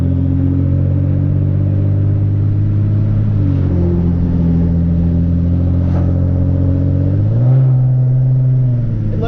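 A car engine accelerates under light throttle inside the cabin, a loud steady droning hum that slowly climbs in pitch and dips twice as the transmission shifts, with no talking.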